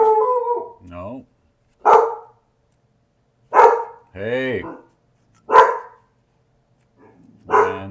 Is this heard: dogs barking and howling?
yes